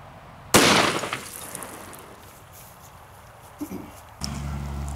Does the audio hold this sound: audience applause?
no